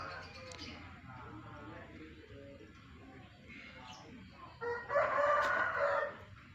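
A rooster in a coop crows once, loud and close, toward the end, after a stretch of quieter background with a voice speaking.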